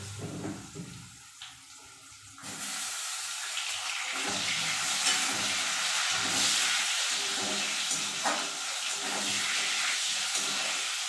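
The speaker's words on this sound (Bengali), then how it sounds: "পেঁপেটা একটু হালকা ভাজা হবে" Cut papaya pieces with whole cumin hit a hot pan for a light fry, starting a steady, loud broadband hiss that runs on continuously after a brief quieter opening.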